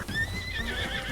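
A horse in the video game Red Dead Redemption whinnies with clip-clopping hooves, a short, close and fairly loud burst standing alone without talk.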